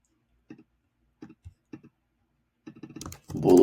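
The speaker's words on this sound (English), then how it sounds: "So I'm going to type in" Typing on a computer keyboard, quiet and close, with short bursts of key clicks separated by pauses, then a louder flurry of keystrokes and a brief rustle at the end.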